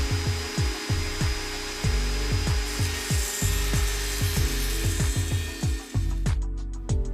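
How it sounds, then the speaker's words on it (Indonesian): Wood trimmer router cutting a long slot about one centimetre wide down the middle of a groove in wood: a loud, continuous whine broken by repeated rasping cuts in a steady rhythm, the motor cutting out near the end. "Pada bagian tengah groove kita buat potongan memanjang dengan lebar sekitar 1 cm."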